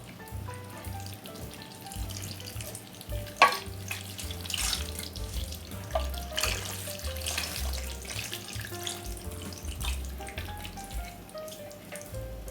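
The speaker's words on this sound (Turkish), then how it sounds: "Biraz da su ilave edeceğim." Running water splashes steadily into a pot of stuffed peppers with minced meat for several seconds, with a few clinks partway through and no talking.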